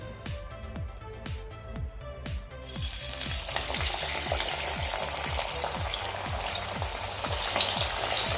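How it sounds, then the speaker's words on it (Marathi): Spinach vadis (palak vadi) deep-frying in hot oil, a steady loud sizzle and bubbling that swells and grows denser as pieces go in, with repeated low thuds throughout. "आता आपण पालकाच्या वड्या तळून घेऊया"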